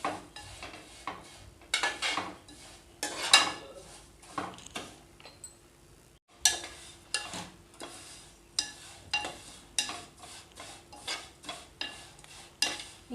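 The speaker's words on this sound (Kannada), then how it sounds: "ಇದನ್ನು ಈ ರೀತಿ ಕೈ ಆಡಿಸ್ಕೊಂತಿರ್ಬೇಕು, ಇಲ್ಲಾಂದ್ರೆ ತಳಗೆ ಹೊತ್ತಿಡ್ತೈತಿ" Food being stirred and roasted to golden in a pan on a gas stove, with repeated scraping strokes of a utensil against the metal pan and soft sizzling, close and uneven in rhythm, with brief pauses between bursts.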